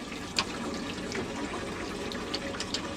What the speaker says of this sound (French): Le débit de l'eau est réglable ici.